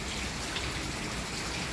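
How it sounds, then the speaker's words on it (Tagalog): Heavy rain falls steadily outdoors near garden plants, a dense, even hiss of drops on surfaces with no pauses or voices. "patapos na yung ulan, mamaya naman siguro ambon-ambon na, pero malakas pa rin."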